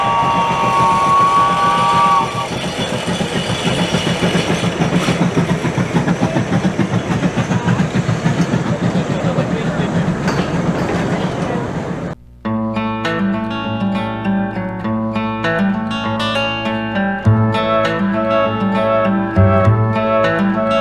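The miniature train at Hermann Park in Houston rolls in with a loud, steady rumble and rattle, then gives way to bright, sustained tonal blasts like a horn or whistle close by.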